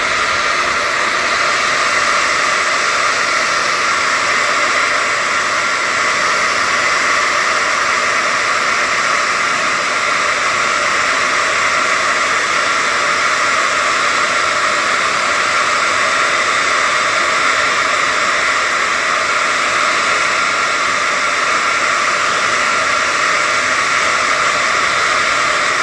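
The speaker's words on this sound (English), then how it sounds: "And this one, the blower. This one, hot blower." A hot air blower runs steadily and loudly as it heats shrink wrap on 18650 batteries, giving a constant broad rushing hiss with no breaks for the whole stretch.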